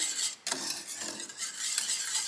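Chocolate cream stirred with vanilla extract and maple syrup in a bowl for a vegan pot de crème, a soft continuous swishing and scraping close by, with no talking.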